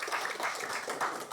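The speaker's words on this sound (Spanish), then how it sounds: "Démosle un aplauso a nuestro Dios" A church congregation applauds. The clapping is dense and steady, forms a continuous wash of sound, and lasts only a moment.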